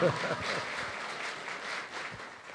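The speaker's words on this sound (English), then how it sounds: "Give him a round of applause." Applause from an audience at a Vietnamese Lunar New Year fair in Toronto greets a Canadian senator, a steady wash of many hands, with a voice speaking over the first moments.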